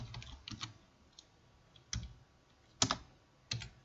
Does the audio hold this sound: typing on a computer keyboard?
yes